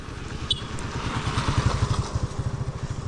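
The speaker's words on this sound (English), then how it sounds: "I see the motorbike" A motorbike engine idles nearby with a steady low throbbing pulse, growing slightly louder and rougher toward the middle before settling, with faint traffic noise behind it.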